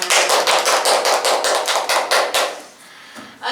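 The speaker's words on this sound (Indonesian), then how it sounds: "Oke, hebat, tepuk tangan dong dari semua." A small indoor group claps at a teacher coaching demonstration, with rapid, loud, close claps for about two and a half seconds before the clapping quickly fades.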